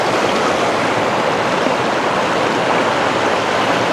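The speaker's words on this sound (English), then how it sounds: "Little waterfall there." Small mountain waterfall in pine-covered land, a constant close rushing splash of falling water, broadband and steady with no breaks.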